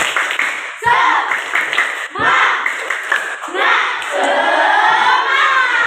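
A school class claps together in a rhythmic spirit clap, with bursts of hand claps mixed with children's voices calling out, loud and close, in a lively classroom.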